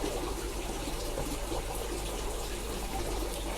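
Water pours steadily onto potting soil, a continuous gushing splash that holds an even level throughout, close and with no voices.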